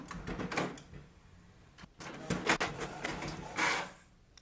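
A Canon MAXIFY MB2720 printer printing, with close mechanical whirring, rolling paper feed and clicking pulses that rise and fall over a few seconds.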